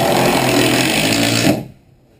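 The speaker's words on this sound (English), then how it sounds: "I'll pre-start one of my screws" Power drill driving a screw into wood during an off-grid cabin build, a steady loud whirring motor run for about a second and a half that then cuts off abruptly into near silence.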